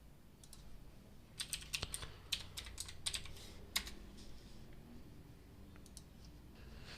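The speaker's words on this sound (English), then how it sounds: "I'm going to start by typing letters, equals, and the alphabet" Computer keyboard typing while a Python file is written, a quiet run of close key clicks in short irregular bursts that trail off into sparse single taps.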